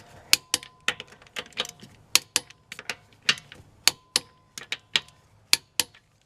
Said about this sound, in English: Wait for the click.